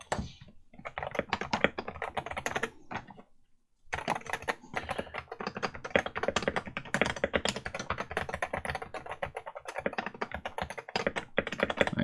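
Fast, continuous typing on a modded Wooting 60HE keyboard, with dense clacking keystrokes close up and one brief pause partway through.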